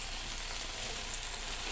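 Lamb shank sautéing in a pan, a continuous dense sizzle and spatter held at an even level throughout, close and unbroken, with no one speaking.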